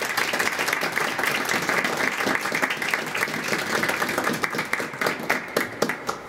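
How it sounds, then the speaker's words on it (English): A studio audience applauds as storyteller Antonio Sacre returns to the microphone, full steady clapping that gradually breaks into more separate, individual claps toward the end. "with a round of applause, Mr. Antonio Sacre"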